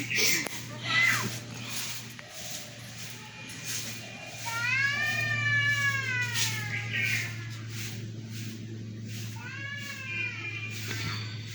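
A cat meows several times in drawn-out, rising and falling cries, close and fairly loud, over a steady low hum with faint voices and background noise.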